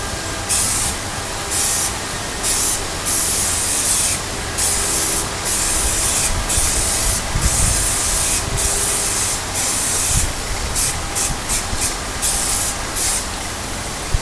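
Spray adhesive hisses onto dash pad bonding surfaces in a garage, coming as a series of steady bursts with short breaks between them and building an even coat with no talking.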